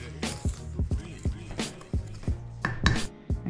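A spoon mixes caster and brown sugar into flour and cocoa for muffins, knocking against the bowl in a run of sharp, close taps at an uneven rhythm, with no talking.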